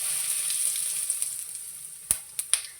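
Crushed fennel seeds dropped into hot oil already crackling with mustard seeds, a steady quiet sizzle with three sharp pops near the end, no talk.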